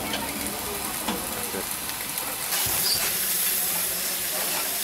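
A steam locomotive on India's narrow-gauge toy train railway gives off a steady, fairly close hiss of escaping steam that swells slightly louder partway through.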